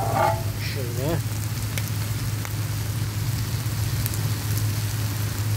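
Meat and peppers sizzling in oil on a sac pan for kavurma: a steady, close crackling sizzle that continues evenly, with brief voices talking at the start.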